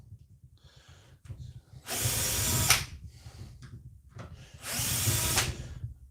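A cordless ratchet set to low speed unscrews a DeWalt Flexvolt battery during a teardown. It whirs in two separate bursts of just under a second each, with quiet handling noise in between and no talking.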